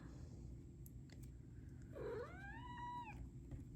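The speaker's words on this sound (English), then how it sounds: "My cat Peanut has decided to come" A domestic cat gives one drawn-out, rising then falling meow indoors over a steady low background hum, fairly faint and close.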